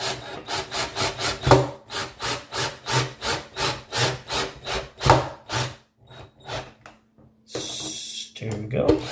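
Power drill fitted with a step bit boring into the wooden body of a Firefly 338 semi-hollow electric guitar, a steady run of rhythmic grinding bursts, close and loud, with a brief pause and a final burst near the end.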